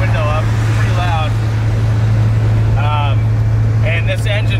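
A VW van with a hard-mounted 2-liter GTI engine cruises a highway at about 65 to 70 mph, giving a loud, steady engine and road drone throughout while a person talks over it.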